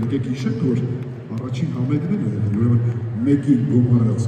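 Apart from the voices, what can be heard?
No everyday noises stand out.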